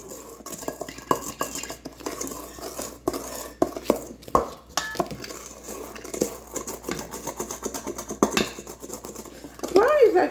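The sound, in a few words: mixing brownie batter in a bowl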